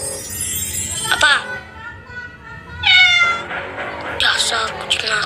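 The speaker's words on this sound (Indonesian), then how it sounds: "Dasar kucing nakal." A kitten mews in a few rising, drawn-out cries amid a lively scene with speech and clinking, close and fairly loud.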